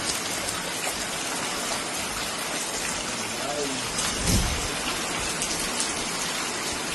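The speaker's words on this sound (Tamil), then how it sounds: "மழை வந்துட்டு" Rain falls on a home garden, a steady close hiss of drops with a brief low gush partway through and faint voices underneath.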